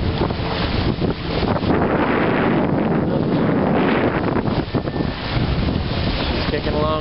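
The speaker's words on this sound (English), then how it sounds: "Here we are, sailing about 30 miles offshore." A sailboat under way about 30 miles offshore, with steady loud wind buffeting and the rush of water and waves against the hull throughout.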